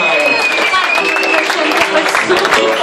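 Crowd clapping at a live outdoor reggae show at Oasi San Martino, steady and fairly loud, with sustained tones and voices running beneath the applause.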